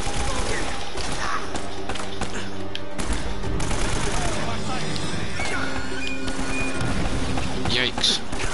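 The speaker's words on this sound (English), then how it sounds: "you guys just want to shoot at me all the time?" Enemies fire guns at the player in Uncharted: Drake's Fortune, a constant barrage of close, rapid shots and impacts under a voice that talks over the action.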